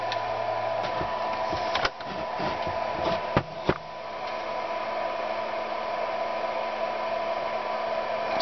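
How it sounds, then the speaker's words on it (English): A power inverter runs a soldering iron off the grid, giving a steady close hum and whir with a few sharp ticks and clicks near the middle, no voices. "I have a power inverter running my soldering iron."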